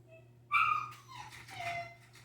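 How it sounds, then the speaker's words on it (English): Puppies whimper and cry in high, wavering whines, a sharp yelp first and then softer drawn-out whimpers nearby. "If you can hear the puppies crying"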